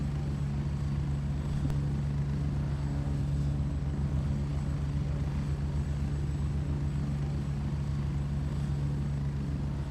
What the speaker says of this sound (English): you have helicopters, and I'm sure you've seen the little birds flying around. You could still hear it a little bit